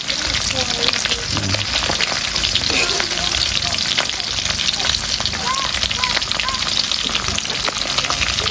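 Dried fish (tuyo) fries in a pot, a loud, constant crackling sizzle close by with scattered pops and faint background voices.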